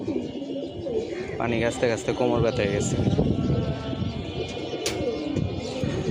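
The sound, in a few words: pet pigeons cooing on a rooftop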